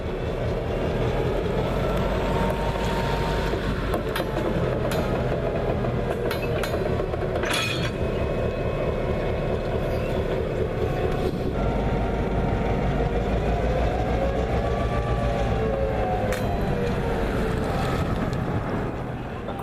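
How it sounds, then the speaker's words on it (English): Two coupled locomotives, including engine 2632, idle with a steady, loud mechanical rumble and hiss, a few faint metallic clinks and a brief clank standing out over the continuous drone. "the two engines coupled together."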